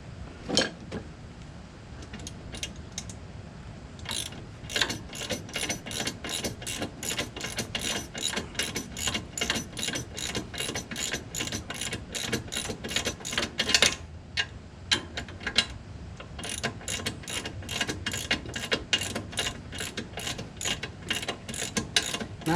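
A ratchet clicks steadily while tightening the front strut nut on a 2015 Ford Expedition during a strut installation, giving dense, rapid pawl ticks in repeated bursts with brief pauses, close and fairly loud with no talking.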